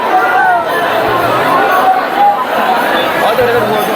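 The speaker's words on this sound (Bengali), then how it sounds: "জাস্ট ভিড়টা দেখো।" A dense crowd of pilgrims gathers at Nimaitirtha Ghat in Tarakeswar during the Shravani Mela, a steady murmur of many voices with scattered louder calls, close and continuous.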